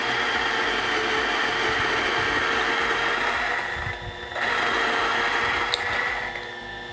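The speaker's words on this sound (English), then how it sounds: "I'm going to go ahead and start the grinder. I grind slightly finer on this." A coffee grinder grinds organic Peruvian beans slightly fine for espresso beside a Breville Bambino, a steady close, loud whirring buzz that dips briefly near the end before resuming.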